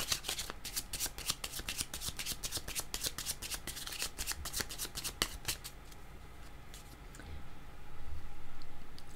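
A deck of playing cards is shuffled with rapid crisp riffling snaps for several seconds, then a few slower scattered flicks and soft handling as the shuffle winds down, heard close and quiet.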